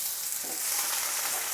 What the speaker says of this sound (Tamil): கடுகு பொரிஞ்சதும் கட் பண்ணி வச்சுருக்கிறேன் ஒரு பெரிய வெங்காயத்தை சேர்த்துக்கிறேன்